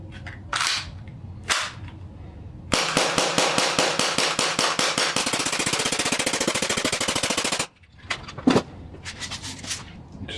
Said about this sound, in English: So this is a 40 odd round mag. And I'll fire all of this.